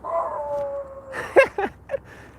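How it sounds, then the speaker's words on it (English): A dog gives a long, wavering howl, then breaks into three sharp barks close by. The sound is fairly loud and clear against a quiet background. "I guess the dog wanted to say hi too."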